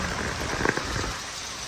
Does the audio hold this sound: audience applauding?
no